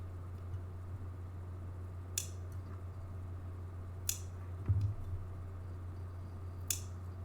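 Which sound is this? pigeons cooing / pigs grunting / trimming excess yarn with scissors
trimming excess yarn with scissors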